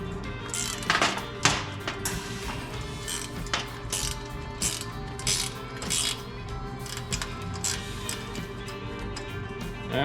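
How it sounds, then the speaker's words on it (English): Ratchet clicking as a bolt is loosened on the hub of an Oliver 1365 tractor, repeated close metallic clicks in irregular bursts throughout, with no talking. "what I am going to do here is loosen this bolt up here now"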